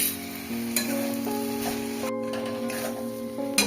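A fennel and black cumin spice mix sizzles loudly in a hot pan. It gives a continuous close crackle and hiss with occasional scraping from stirring, and no one speaks.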